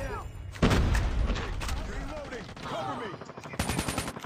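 A loud sniper gunshot and gunfire in a mobile shooter game, with a sharp burst early and another volley near the end, under excited talk.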